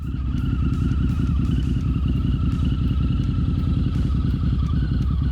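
A Harley-Davidson V-Rod Revolution engine runs steadily, a loud, close, continuous low throbbing drone with a rapid pulsing beat and faint higher mechanical whine above it.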